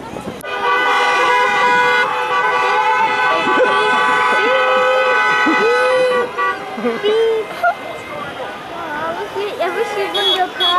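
Several car horns honk over each other in a jammed queue of traffic leaving a theme park car park at evening, toots overlapping in sustained and repeated blasts, loud and close, with people talking nearby.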